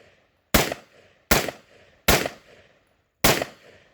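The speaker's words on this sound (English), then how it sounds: "just firing the left barrel" Four loud, close gunshots from the left barrel of a Gilboa double barrel AR-15 rifle, each a sharp crack with a short decaying tail, spaced about a second apart with brief silences between.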